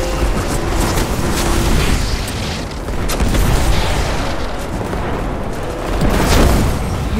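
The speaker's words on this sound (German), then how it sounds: "Wir haben diese Explosionen von hier gespürt" Loud, continuous barrage of booming explosions and heavy weapon fire from combat in the video game Destiny 2, with dense rumbling blasts swelling and falling throughout.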